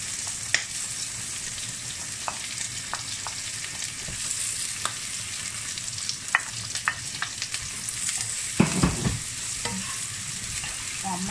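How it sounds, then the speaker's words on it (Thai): Garlic fries over medium heat in an oiled pan for a stir-fry of duck tongues with pickled mustard greens, a continuous close sizzle broken by spatula scrapes and clicks, busier near the end. "ล้วนกระเทียมให้หอมเหลืองอีกรอบนึงค่ะ"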